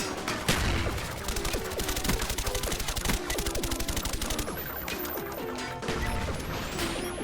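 Rapid suppressed Galil rifle fire in Black Ops 1, sustained bursts of dense muffled shots with metallic mechanism clatter, loud and continuous across the whole stretch.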